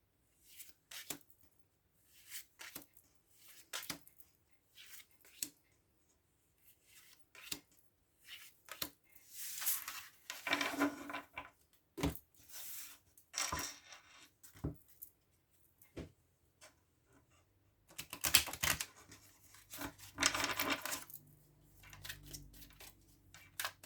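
Oracle cards of a heart's-voice deck are shuffled and laid down one by one, giving soft, scattered taps and papery slides. Short bursts of riffling come between quiet gaps, close and faint.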